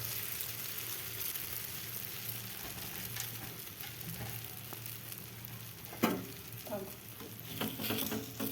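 A gram flour pudla roasts in oil on a village kitchen pan, giving a soft, continuous sizzle with faint crackle, plus a few louder scrapes or knocks near the end.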